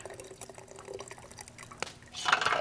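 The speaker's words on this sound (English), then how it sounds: "And you just strain right through a strainer. I use a canning jar so it doesn't break." Liquid is poured through a strainer into a glass canning jar in a Dutch oven kitchen setting, giving soft trickling and dripping that swells into a brighter splashing pour at the end.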